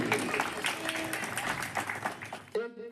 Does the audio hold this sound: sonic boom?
no